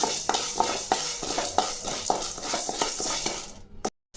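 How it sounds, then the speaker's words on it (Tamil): Chana dal dry-roasting in a pan, stirred with a utensil in a steady rhythm of scrapes and light rattles under a soft background hiss, close up, cutting off abruptly near the end. "இதையும் நல்லா செவர வறுத்து எடுத்துக்கலாம்."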